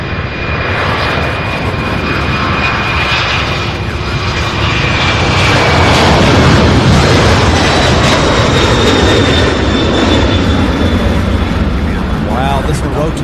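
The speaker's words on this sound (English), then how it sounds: "Wow, this one rotating right in front of us." A heavy jet airliner roars at full takeoff thrust while rotating off the runway at Louisville airport, a loud, steady, close engine rumble with a rising whine, voices talking beneath it.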